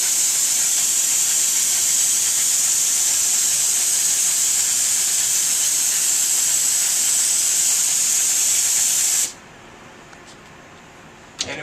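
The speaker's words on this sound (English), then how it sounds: "I'm going to intentionally stop and just spray and spray to get that interior" Steady, loud hiss of an HVLP spray gun spraying glaze runs continuously for about nine seconds, then cuts off abruptly, leaving near silence and a faint click.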